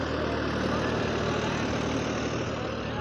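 Sonalika Tiger 55 tractor running, a steady loud diesel drone with a constant low throb and no breaks.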